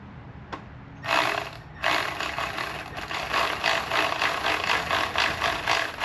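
A ratchet wrench tightens a spark plug on an engine, a quick run of close, sharp clicking after a couple of initial strokes, steady and mechanical with no talking.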